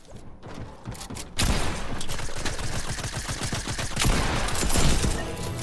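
Video game SMG fire comes in rapid, continuous bursts of clattering automatic shots, loud and close, rising to a dense stretch near the end.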